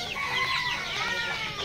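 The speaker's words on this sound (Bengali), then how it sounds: "আর এটা হচ্ছে মোরগ" Chickens and a rooster kept in a poultry enclosure cluck and chatter steadily and fairly close, with overlapping calls throughout.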